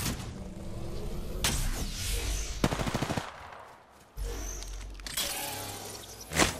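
Automatic weapon fire rattles in the Apex Legends video game. Several rapid bursts come back to back, then a short lull falls before the shooting resumes, with a sharp hit at the end.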